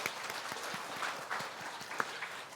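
Church congregation gives a round of applause after a summer Bible camp, soft and steady clapping from a gathered crowd, fairly distant and moderate, with a few sharper individual claps standing out.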